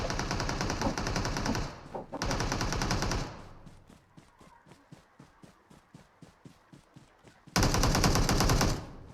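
Bursts of automatic gunfire in PUBG Mobile, two long sustained volleys, a stretch of rapid single shots, then another loud burst, with no speech.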